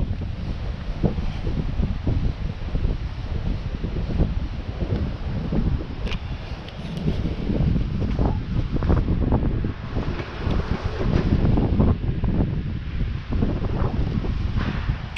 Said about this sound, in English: Sorry for the wind, it started picking up.